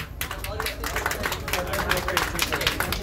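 An audience claps at an award event for a dance reel competition, a dense, sustained patter of many hands with crowd chatter mixed in.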